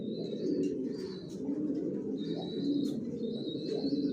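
Racing pigeons, a young Johnson-line racer with a leg tag, coo in low, continuous throaty rolls, steady and close, with brief high chirps above them and no talk.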